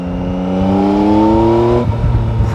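A 2022 Yamaha Tracer 9 GT motorcycle engine revs up under throttle, its pitch rising steadily for nearly two seconds before the gear changes to a lower pitch, loud and close.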